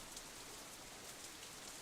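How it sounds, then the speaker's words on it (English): Rain falling in the visual novel Katawa Shoujo, a steady, dense hiss of drops on surfaces, even and constant throughout with no talk. "The rain increases a little more, offended that we haven't fled yet."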